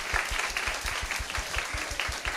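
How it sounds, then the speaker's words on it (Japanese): Congregation at a Sunday church worship service in Shinjuku applauding, a steady wash of many hands clapping close and continuous, with a regular low thumping pulse running beneath it throughout. "お互いに本当にこの拍手を送りたいと願います。"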